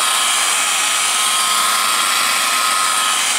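A car polishing machine buffs swirl marks out of paintwork with light pressure, a loud, constant high whir held close and unbroken throughout.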